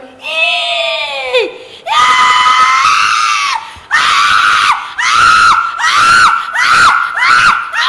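A woman at a Hindu faith-healing court in a possession ritual screams loudly and at full force, with long wailing shrieks followed by repeated rising cries in close succession, as a crowd is faintly audible behind her.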